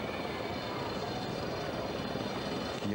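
A helicopter carries Ayrton Senna away from the Imola circuit at the 1994 race, its rotor and engine noise a steady, moderately distant drone that holds level throughout, with no voices.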